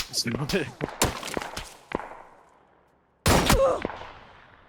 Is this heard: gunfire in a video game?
yes